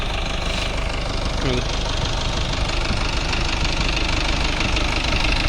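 A tractor engine pulling a Landforce seed drill while sowing wheat chugs steadily and loudly throughout, a rough, constant mechanical drone with a knocking undertone, and a voice speaks briefly over it.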